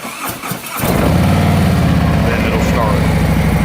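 A motorcycle fitted with an electric center stand and dual exhaust cranks and fires up once the stand is raised, settling into a loud, steady, throaty idle close by, with a voice speaking briefly as it starts.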